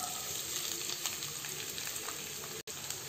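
Fennel seeds and small-cut medium onions fry for a mutton liver dish, producing a continuous, dense sizzle and crackle with a brief dropout near the end and no voices.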